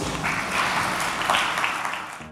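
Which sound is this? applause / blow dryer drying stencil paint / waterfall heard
applause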